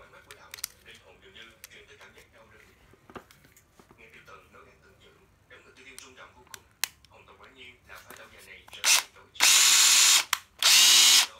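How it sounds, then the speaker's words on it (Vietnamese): A Nati 12V cordless drill runs in two loud close bursts near the end, after a stretch of quiet handling clicks and someone talking. "Khoan Nati 12V nha mọi người"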